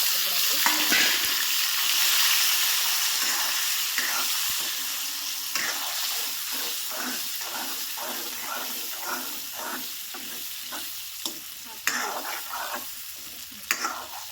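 Brinjal pieces fry in oil for a Maharashtra-style eggplant dish: a loud, hissing sizzle near at hand, joined by rhythmic scraping of stirring and a few sharp knocks against the pan, without talking.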